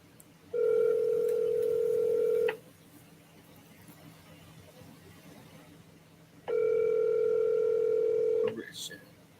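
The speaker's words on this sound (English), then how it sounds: "I'm only let it ring 3 times because you don't let nobody phone ring like that." A telephone ringback tone sounds loud and close, with two long steady rings of about two seconds each and a quiet pause between them. Faint background noise follows the second ring.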